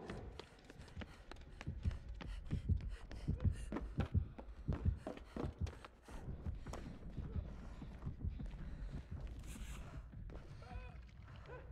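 Killer heartbeat from the Dead by Daylight game, a thumping pulse repeating in a steady rhythm under busy game noise, fairly quiet overall with no voices.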